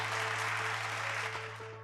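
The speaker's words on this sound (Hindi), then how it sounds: "तो पीछे से भी ताली आ रहे" Audience members at the back of a hall clap during an Atomy India business presentation, a soft, distant patter of hands over a steady electrical hum that tapers slightly toward the end.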